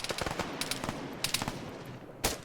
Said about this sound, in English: We're hearing some gunshots.